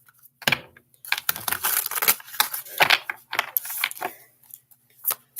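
Tarot cards are shuffled by hand in quick irregular bursts of crisp riffling and slapping, close and fairly loud, with brief pauses between shuffles and no speech.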